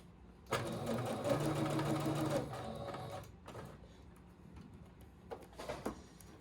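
A sewing machine stitches along a garment edge, running in a steady mechanical whir for about two seconds, then stopping, followed by faint handling noises and a couple of short bumps.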